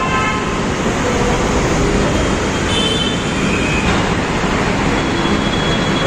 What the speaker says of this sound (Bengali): আর এই হচ্ছে রুবি মেট্রো।